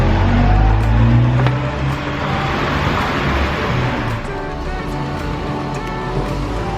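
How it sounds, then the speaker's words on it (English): A car squeezes through a narrow alley-like road in Palma's old city, its engine rumbling loudly at first and then easing to a steadier, quieter drone as it moves slowly past, close by. "There's a car coming now, look at this."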